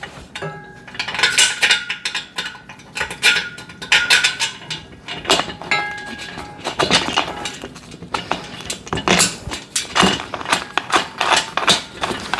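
A ratchet drives 14 mm pad bolts on a VEVOR pec deck and rear delt home gym machine, with close repeated metallic clicking bursts and clanks in an irregular rhythm.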